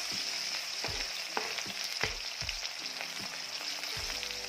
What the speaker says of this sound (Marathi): तेल गरम झाल्यानंतर लसूण टाकायचं.